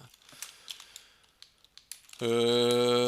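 Rapid computer keyboard typing while entering a Google search, a run of light, uneven clicks at moderate distance, then cut off by a loud, sustained tonal sound that fills the rest.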